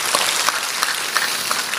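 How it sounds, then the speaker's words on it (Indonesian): A church congregation applauds during a sermon; the clapping is moderately loud and even, with a few sharper individual claps standing out over a short stretch. "Coba tepuk tangan yang meriah buat dia."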